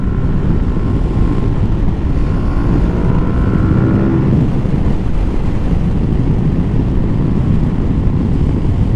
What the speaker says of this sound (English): I keep on thinking it's extremely loud, but it's because we don't have any windshield to protect us from the wind